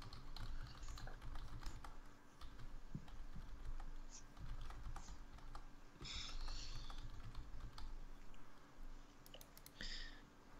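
Rapid, uneven typing on a computer keyboard, close and fairly loud, with brief bursts of sharper clicks and clacks over a steady low room hum.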